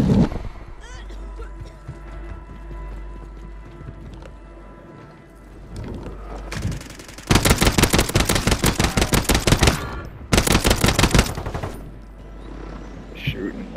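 Automatic gunfire in the video game Warzone 2.0 rattles in two long, loud, rapid bursts after a quieter stretch, with a voice talking over the earlier part.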